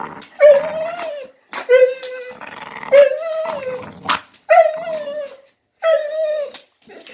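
A dog whimpers in a series of five or six high, drawn-out whines, each about a second long with short pauses, loud and close with nothing else behind them.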